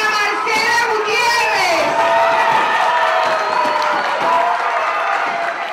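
At a carnival celebration in Barranquilla, a lively crowd cheers and whoops while children shout, a loud, continuous wall of festive noise with applause mixed in.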